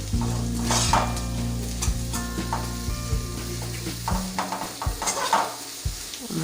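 Okra masala frying in oil as it is stirred and mixed in the pan, a close steady sizzle with repeated scraping strokes from the spoon and a few light clinks, no voices.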